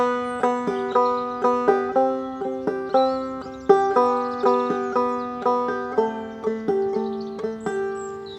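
Banjo picked with a pluck-thumb technique, with distinct, cleaner individual notes in a steady bouncing rhythm and less strumming wash, close and alone.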